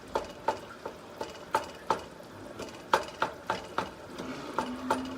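A spoon stirs and chops meat sauce in a pot, producing about fifteen sharp, regular knocks against the metal over a faint simmer.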